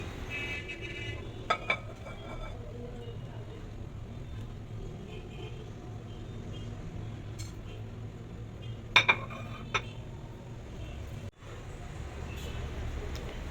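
Chopped tomatoes and onions are tipped into a bowl, with a couple of brief utensil clinks against the dish near the start and middle over a quiet room hum.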